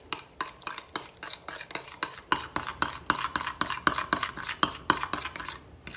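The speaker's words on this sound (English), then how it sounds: "And then I give it a little stir." Stirring a Cajun shrimp boil in a pot, with a steady run of close metallic scrapes and knocks from a utensil against the pot in an even, repeating rhythm, with no talk.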